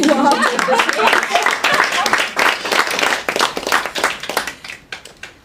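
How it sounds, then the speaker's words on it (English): At an International Women's Day event, an audience gives a warm round of applause, crisp clapping that starts strong over voices and gradually thins into scattered claps. "a warm round of applause"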